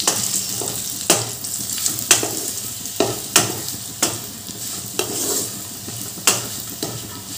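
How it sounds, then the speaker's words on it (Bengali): Bread pieces fry in a pan with a steady close sizzle, broken by regular scrapes and knocks of a utensil stirring them about every second, with no talking. "এইভাবে রুটির টুকরোগুলো ভালো করে ভাজা ভাজা করে নেব।"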